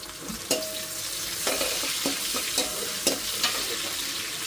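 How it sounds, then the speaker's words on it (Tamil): Fenugreek seeds and green chillies sizzle in hot oil for a South Indian tempering, a continuous close crackle broken by sharp clacks and scrapes of a spoon against the pan, with no talking. "வெந்தயம் போடுவோம் எண்ணெய் போட்டு தாளிச்சு விடுவோம்"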